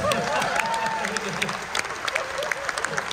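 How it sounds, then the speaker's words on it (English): A live audience at a ventriloquist comedy show breaks into a big round of applause, dense crowd clapping that carries throughout, with scattered voices and laughter mixed in. "give them a big round of applause."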